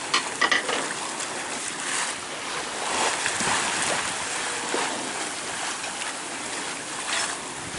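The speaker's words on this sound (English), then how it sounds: "There's, yeah, some huge waves." Large ocean waves off the Caribbean coast, heard from aboard a sailing boat, give a continuous loud rushing wash of water and wind with no voices.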